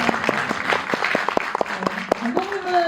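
Cinema audience applauding at a film screening with a director talk, a dense, lively patter of many hands clapping close by, with brief voices and a cheer rising through it near the end.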